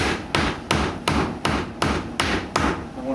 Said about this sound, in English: just put a block of wood and use a regular hammer.